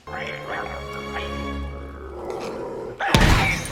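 Dog barks and whimpers from the Mortadelo y Filemón video game as it attacks helmeted guards off-screen, layered with game music and effects, followed by a loud crash near the end.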